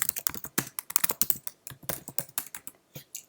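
Rapid, crisp keystrokes on a Mac computer keyboard while an email is typed, close and clear with an uneven rhythm and brief pauses, no talking.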